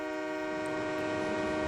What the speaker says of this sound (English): Boom, train.